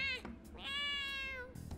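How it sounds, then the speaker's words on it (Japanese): Morgana, the cat character in the video game Persona 5 Strikers, lets out a single drawn-out, clear meow, preceded by a brief voice-like squeak, close and prominent. "しかしよく泣く猫だな。"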